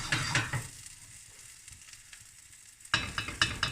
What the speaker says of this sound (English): Give the pan a little shake.